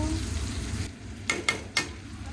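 Tomato goes into whole spices (bay leaf, cardamom, cinnamon, star anise, cloves) frying in oil, a steady close sizzle that drops as it is added, followed by a few sharp spoon scrapes or clinks against the pan.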